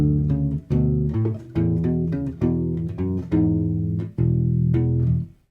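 A U-bass plays a short melodic phrase from a main theme, a run of distinct plucked notes with deep rubbery tone, played steadily and close with no talking.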